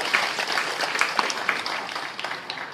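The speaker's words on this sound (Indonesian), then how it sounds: "Kamu tepuk tangan untuk Bupati." Audience applause for the regent at the inauguration ceremony of the Batu Peradaban historic site in Papua: steady, dense clapping from a crowd, moderately loud and continuous for the whole stretch.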